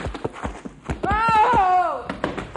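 Horse hooves clip-clop in a radio drama as a horse struggles to rise with a rider on its back, with a run of sharp hoof knocks and a long loud horse whinny in the middle.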